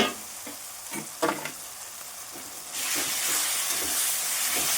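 Ginger-garlic paste and four split green chillies hit a pan of spiced chickpeas cooked with mutton fat, giving scattered stirring knocks, then a sudden loud, steady hiss of sizzling that fills the second half, no voices.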